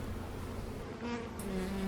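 A close, continuous buzzing of many honeybees at a hive, a droning hum that swells slightly toward the end.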